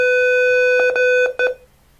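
A continuous electronic tone from an Arduino buzzer with short beeps pulsing over it, then it cuts off and falls quiet; no voices.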